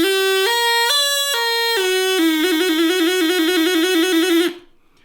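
Homemade drinking-straw reed whistles buzz in bright, reedy tones, stepping through several held pitches before a rapid warbling passage that stops abruptly, loud and close with no talking.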